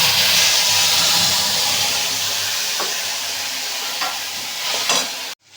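Ground spice paste hitting hot oil tempered with cumin and a bay leaf, a loud sputtering sizzle that gradually settles, with a few sharp stirring scrapes toward the end.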